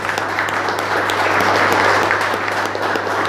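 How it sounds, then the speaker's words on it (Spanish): A church congregation applauds for the Lord during a Spanish-language healing sermon, a steady dense wash of many hands clapping that holds loud and even throughout over a low constant hum. "¿Cuánto le dan un aplauso al Señor?"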